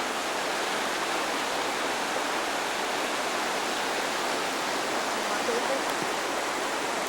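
Water rushes in a constant broadband hiss, a steady flowing stream heard nearby with no breaks.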